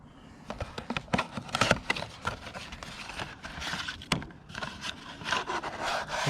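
Cardboard packaging of a K&N fuel filter being handled and opened up close, with repeated rubbing, scraping and crinkling sounds in uneven bursts and one sharp tear, no talking.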